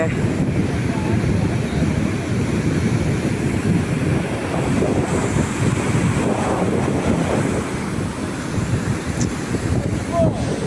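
Sea waves roll onto a beach in steady, loud surf while wind rumbles constantly across the microphone, with no clear voices over the noise.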